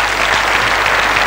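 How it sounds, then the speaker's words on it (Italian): Loud, dense applause from a theatre audience fills the whole brief moment, a close and continuous wash of many hands clapping together. "Si può anche applaudire."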